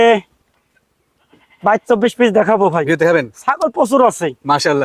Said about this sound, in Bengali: দেখতে পাচ্ছেন দর্শক আজকে অনেক ছাগল নিয়ে আমাদের সদুল ভাই হাজির হয়েছেন